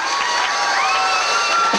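Outdoor festival crowd during a trophy presentation on Columbus Day weekend, a loud burst of cheering and whooping with scattered clapping, voices shouting over the noise.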